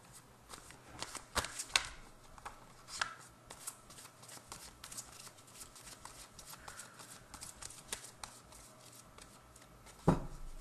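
Tarot cards are shuffled in quick riffling bursts, crisp papery flutters and taps that come and go, with a louder snap near the end.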